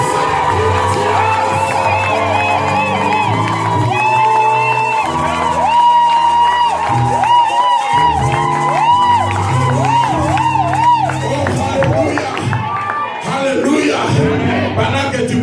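A church congregation shouts and cheers loudly and continuously in a dense, sustained roar of many voices, with whoops and calls rising over the crowd throughout.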